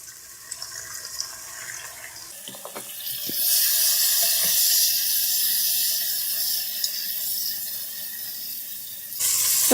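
Chopped onions and tomato for Arabic biryani fry in a pan, quiet at first with a few clicks, then a loud steady sizzle swelling up and holding before a sharp final burst.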